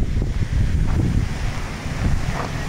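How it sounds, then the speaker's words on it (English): Strong wind buffeting outdoors at a campground in Bullhead City, Arizona, a loud continuous low rumble with gusty surges and no voices. "it's really windy today out here"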